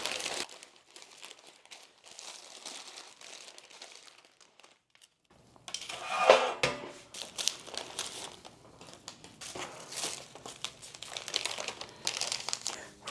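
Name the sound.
wrapping frozen treats in plastic wrap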